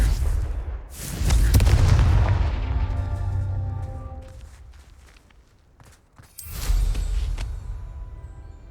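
A Confringo blasting curse from Hogwarts Legacy goes off in a pair of loud booming bursts with deep rumbling tails, the first swelling early and fading slowly, the second striking near the end, with scuffing footsteps between.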